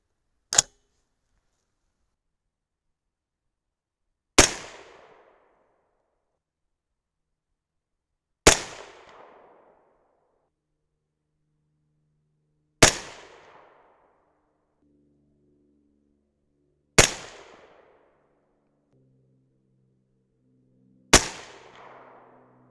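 Six sharp, loud .223 Rem rifle shots with 70gr Nosler RDF handloads, including a 24.0-grain charge, ring out one at a time about four seconds apart, each crack fading quickly into silence.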